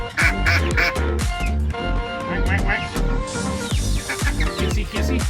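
A large pet duck, kept near a chicken coop built from new and reclaimed lumber, quacks and honks repeatedly in loud, close, rhythmic bursts that carry through the whole stretch.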